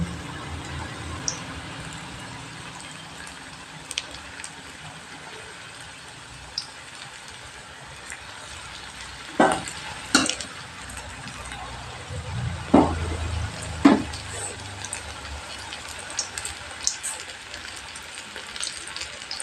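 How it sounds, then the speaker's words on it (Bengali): Battered potato chops frying in hot oil, a steady, close sizzle with occasional louder crackles and spattering bursts as pieces cook. "তারপরে তেলের মধ্যে সুন্দর করে ভেজে নিতে হবে"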